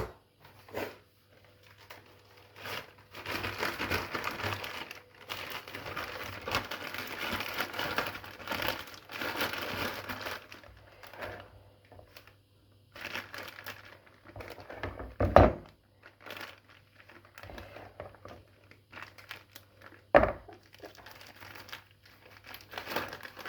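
Crinkling and rustling of a plastic piping bag being handled and cut across for choux pastry, with long bursts of crumpling, pauses, and a couple of sharper snips or knocks.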